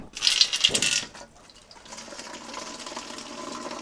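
Water pours and splashes into a bottle being filled, a loud burst of running water at first that drops to a softer, steady trickle and hiss.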